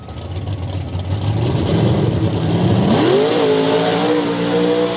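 A Chevy S10 race truck called Over the Top, flagged away at a Bloomsburg, Pennsylvania event, roars loud and close, its engine pitch sweeping sharply upward as it accelerates, then holding a high, steady whine.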